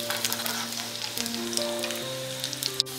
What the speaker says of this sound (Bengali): ঘিটা বেশ ভালো করে গলে গেলে দিয়ে দিচ্ছি 1 চা চামচের মতন কুচানো রসুন। রসুনটা একটু ভেজে নিচ্ছি।